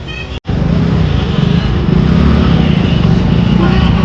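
Palanquin procession vehicles, a four-wheeler followed by a tempo, arrive one after another at a temple in Maharashtra, their engines droning loudly and continuously up close, with a broad rumble that swells slightly as they pass.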